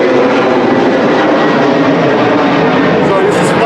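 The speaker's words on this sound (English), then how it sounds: "You gotta hear some airplane." An airplane passing overhead at an outdoor press conference and rally, a loud continuous broadband roar that sweeps through the whole stretch and drowns everything else.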